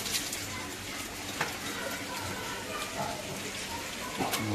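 Lighter rain falls in Rajkot in winter, a soft, constant patter of drops with a few crisp ticks on nearby surfaces, with faint, indistinct voices mixed beneath.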